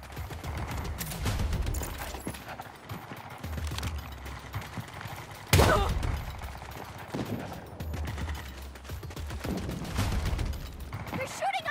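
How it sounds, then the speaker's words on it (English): Gunfire at a video-game shooting range pops out in scattered shots and bursts amid a busy mix, with one loud close crack standing out, and people talk over it. "They're shooting at the shooting range!"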